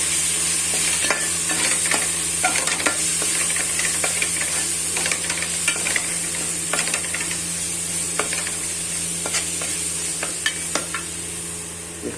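Coriander powder and chilli powder being stirred into a sizzling pan, a steady hiss under repeated sharp clicks and scrapes of a spoon against the pan, close and continuous.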